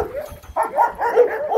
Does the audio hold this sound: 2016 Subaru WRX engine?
no